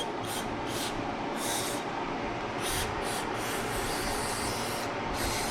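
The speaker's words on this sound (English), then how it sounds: "I'm just going to go ahead and use my brake cleaner and" Repeated short hissing bursts of aerosol brake cleaner sprayed on a 2022 Ducati Panigale V4S during a brake pad change, close by, in an irregular rhythm over a steady noisy background.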